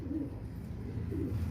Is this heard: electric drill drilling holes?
no